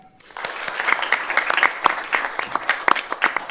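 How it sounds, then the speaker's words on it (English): A school-board audience applauds graduating students, a dense burst of many hands clapping that swells quickly and holds steady, fairly close and lively, with no talking over it. "let's just give them one more round of applause"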